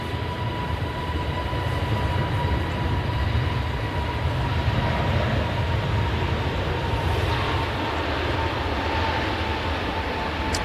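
An easyJet Airbus A320neo jet departs Manchester Airport, its engines giving a steady, loud, broadband roar with a faint whine that holds evenly throughout, with no voices.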